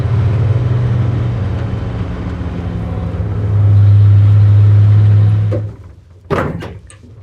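The engine of a 1966 International pickup truck runs with a steady low rumble that swells for a moment and then cuts off, followed by a couple of sharp knocks, with no talking.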